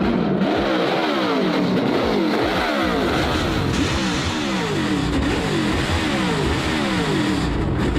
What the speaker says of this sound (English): I love high-revving cross-plane V8s.